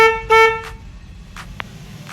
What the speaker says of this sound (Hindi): और अभी ये हॉर्न बजाता हूँ।